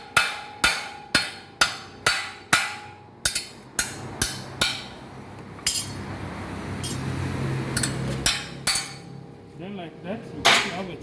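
A hammer strikes a car axle housing in a quick series of sharp, ringing metal knocks, then pauses for a scraping, rustling stretch before a few more knocks.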